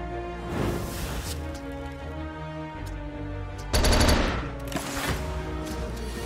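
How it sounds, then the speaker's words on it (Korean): Gunfire effects from the card game Slay the Spire, with a few sharp shot bursts punching over a layered game soundtrack, the strongest burst coming near the middle. "총소리 너무 좋고."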